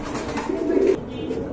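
Indian pigeons of a high-flying line, held for sale at a pigeon market, give a low, soft cooing call up close, a short rolling coo against faint background noise.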